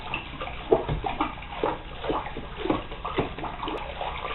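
A spoon or stirrer swishes and sloshes through homemade liquid laundry detergent in a container, giving uneven watery churning strokes up close, with no talking.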